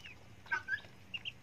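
White Muscovy ducks making short, soft hissing and clucking calls close by, a few brief notes scattered through the moment.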